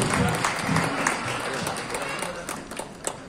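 Audience applause at a comic Urdu mushaira poetry gathering, a dense, fairly steady wash of clapping with scattered sharper claps, voices mixed in underneath.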